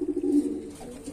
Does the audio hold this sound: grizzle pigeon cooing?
yes